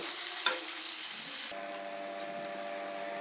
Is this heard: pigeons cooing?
no